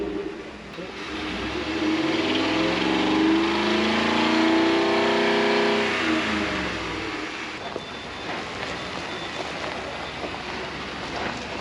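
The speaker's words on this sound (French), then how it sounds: "le son qui sort du pot d'échappement, ah là ça accélère" A pick-up truck's engine and exhaust rising in pitch as it accelerates past, loud in the middle and fading out, with no talking.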